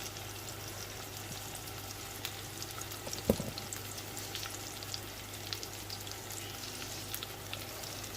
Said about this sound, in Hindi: ये हमने इसमें डाल दिए हैं फ्राई पैन में।